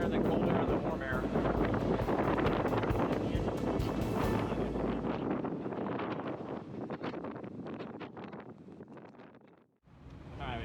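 Strong wind roars across the microphone aboard a sailboat offshore in the Gulf Stream, a loud buffeting rush with waves, easing toward the end, a voice faintly present.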